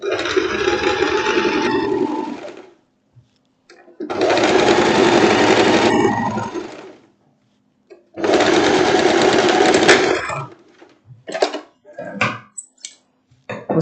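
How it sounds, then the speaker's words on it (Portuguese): A sewing machine stitches the front panel of a long boho dress. It runs in three loud, close bursts of fast steady whirring, each a few seconds long, separated by pauses filled with small handling clicks and taps. "Agora vamos costurar aqui a parte da frente."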